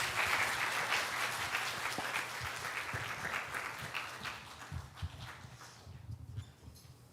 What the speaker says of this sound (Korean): 나오실 때 큰 박수로 환영해 주시기 바랍니다.